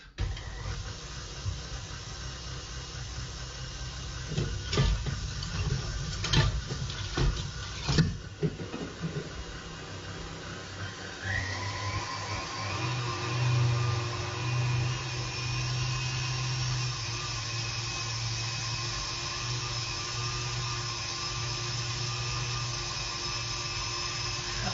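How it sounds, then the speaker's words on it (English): Electric mixer whirring steadily at low speed as it whips egg whites with sugar in a pastry kitchen, preceded by a few clattering knocks, then a continuous, moderately loud motor hum with no talking. "I'm gonna start to whip my egg white in a low speed"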